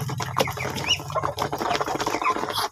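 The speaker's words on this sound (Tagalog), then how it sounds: "Pure Muscovy Duck po yan." Muscovy ducks on a Philippine farm, a close, steady mix of soft hissing, chattering and clucking calls from several birds over a constant low hum.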